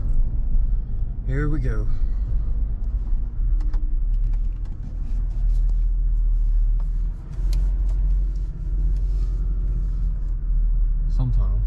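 A supercharged Chevy Tahoe rumbles steadily while driving, its engine note holding under the cabin with a brief rise that may be a gear change, as a voice speaks over it near the start and again at the end.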